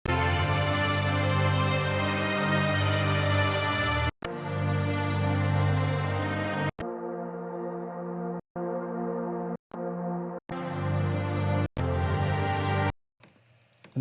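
A sustained synth keys part from an Omnisphere patch in a worship song arrangement plays rich held chords with no voices, broken by several abrupt cuts and a brief pause before a faint tail.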